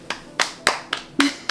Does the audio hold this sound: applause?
yes